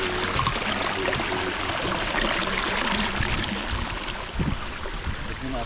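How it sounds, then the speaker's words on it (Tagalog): Steady rushing water from a waterfall and flowing stream on the Pantihan River fills the whole stretch, a loud broadband wash of flowing current with faint voices buried beneath it. "Tignan natin yung falls. Falls talaga. Sundan natin kung saan dumadaloy."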